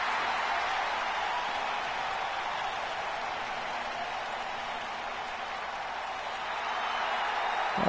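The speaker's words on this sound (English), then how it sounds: "as Charlotte celebrates, as the fans cheer her on" Arena crowd in a wrestling video game cheering and applauding for the newly crowned champion Charlotte, a broad, steady roar of clapping and noise that holds loud across the whole stretch without a break.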